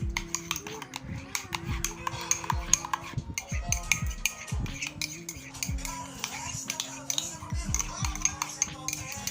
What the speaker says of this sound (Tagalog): Parang mag-combine po yung milk at saka yung giniling na rice